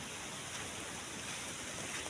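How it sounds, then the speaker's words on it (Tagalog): Strong wind by the sea, roaring and buffeting the microphone in a constant dense rush mixed with surf noise, loud and unbroken for the whole moment. "Kalublak sa kakusog sa hangin."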